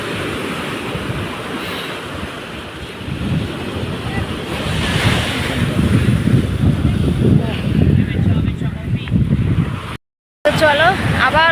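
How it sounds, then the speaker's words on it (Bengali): Sea waves wash and break continuously on a beach at Digha, roaring and rising in loudness, with heavy wind buffeting the microphone; a brief dropout near the end. "এত সুন্দর ঢেউ দিচ্ছে আর সেরকম জলের আওয়াজ"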